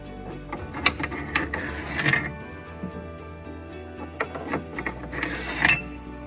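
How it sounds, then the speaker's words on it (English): Metal U-bolts slide into a truck bed rail, giving scattered clinks, scrapes and rattling taps, close and irregular, with brief pauses between the bursts. "you're going to slide 3 of them on each side of the bed in the rail."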